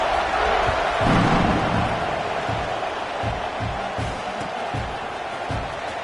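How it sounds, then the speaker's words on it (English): A packed college football stadium crowd hums and roars at a Notre Dame versus Oklahoma game, a dense, continuous wash of distant voices with occasional thumps beneath it. "this crowd is buzzing after that last score"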